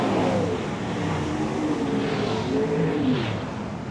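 New Zealand modified race cars roar around a speedway track in a steady, continuous engine drone with rising and falling pitch as they circle.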